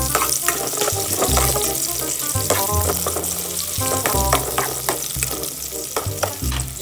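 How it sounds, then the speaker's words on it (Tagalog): Garlic, onion and ginger frying in oil in a pan, a loud, constant sizzle broken by repeated clattering stirs and scrapes of a utensil. "pwede na po natin ilagay ang bawang. Pasunod po natin ilagay ang onion. Sabay na rin po natin yung luya."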